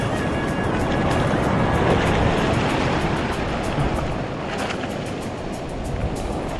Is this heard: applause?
no